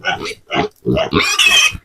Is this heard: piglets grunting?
yes